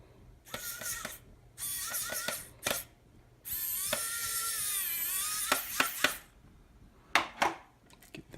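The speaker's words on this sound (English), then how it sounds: "we'll go ahead and put our screws back in here" Screws being driven back into an original Xbox disc drawer drive, heard as close, irregular metallic clicks, scrapes and short whirring bursts with quiet gaps between them.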